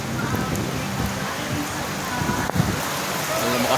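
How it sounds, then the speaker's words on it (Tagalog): Heavy rain pours at the Gapan market in Nueva Ecija, a dense steady hiss of water on surfaces, with faint voices and a sharp knock partway through. "lumakas lalo ang ulan"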